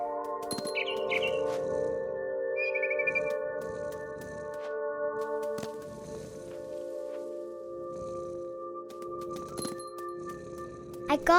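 Brief high bird chirps in the What Remains of Edith Finch video game, a few short calls near a tree, faint beneath a steady sustained musical drone and game ambience.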